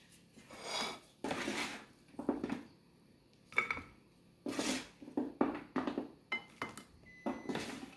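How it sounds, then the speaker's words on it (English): Honey walnut shrimp being plated onto a dish in a kitchen, with scattered light clinks and scrapes of utensils against dishware, close and fairly soft, separated by short pauses. "So I'm going to go ahead and plate it here for you."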